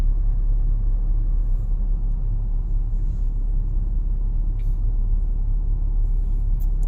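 A car on a driving lesson rolls along with a steady low engine and road rumble, close and constant, the speed held fairly even with only faint higher noises above.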